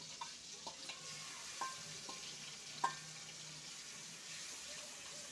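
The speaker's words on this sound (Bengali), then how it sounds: "এবার আমি মশলাটা একটুখানি কষবে।" Spice paste of turmeric, salt and chili powder sizzling in hot oil while being stirred, a steady fry hiss with a few light clinks of the spatula against the pan.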